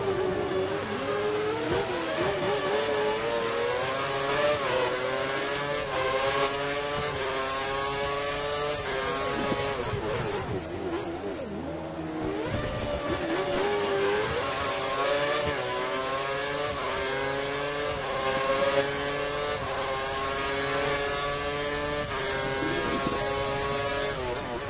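Formula 1 car engine in the F1 2013 racing game at Bahrain, a high-pitched whine that rises and falls through repeated upshifts and downshifts, steady and close, with a slight drop in the middle before climbing again.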